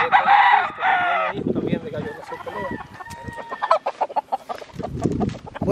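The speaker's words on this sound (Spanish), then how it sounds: "Un gallo muy alto." A tall rooster crows loudly and close, then breaks into a series of rapid clucks, with a voice briefly heard talking in the background.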